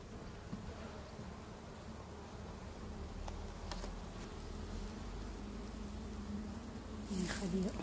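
Honeybees buzz steadily around an open beehive, a dense, continuous hum that stays close and fairly even throughout, swelling slightly louder near the end.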